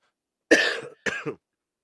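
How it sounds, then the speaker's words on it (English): Two harsh coughs, close and loud, the second shorter with a throaty rasp at its end, surrounded by silence. "Still got to get rid of this cough."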